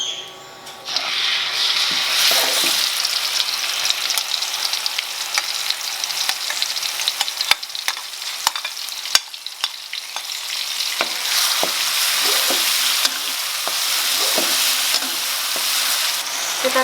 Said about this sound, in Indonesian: Sekarang kita mulai menumis.